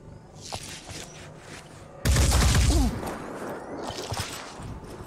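A loud burst of gunfire breaks out midway in the Phoenix Point video game, a dense volley lasting under a second, then fades into softer rumbling game sounds and scattered effects.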